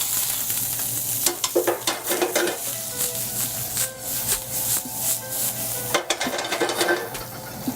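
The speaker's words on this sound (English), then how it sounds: "in a hot pot, I'm gonna add some onions." Onions saute in a hot pot for an orange beurre blanc, a close, steady sizzle broken by repeated scraping stirs of a utensil against the pot, with no talking.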